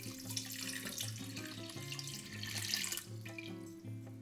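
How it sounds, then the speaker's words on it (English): Tap water pouring into a big pot of carrots before boiling, a steady splashing stream with a rising tonal ring as the pot fills, close and alone. "add enough water to cover the carrots"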